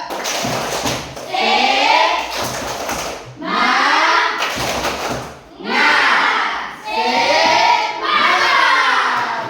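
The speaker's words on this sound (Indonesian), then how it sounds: "Kita berikan tepuk semangat terus supaya kita sama-sama bersemangat." A class of pupils performing a rhythmic 'tepuk semangat' spirit clap, bursts of patterned clapping alternating with loud chanted group voices, close and energetic.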